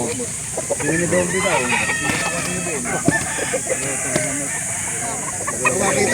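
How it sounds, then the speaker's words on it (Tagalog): Roosters crow and chickens cluck at a poultry sale in Calauan, Laguna, repeated calls rising over a murmur of bargaining voices and market chatter nearby. "Pero magandang manok"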